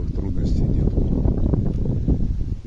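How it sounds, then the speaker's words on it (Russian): Wind blowing across an open field at a poultry-care work site, a steady low rumbling buffet of wind noise on the microphone throughout. "Ветер сегодня, ветерок в новом поле."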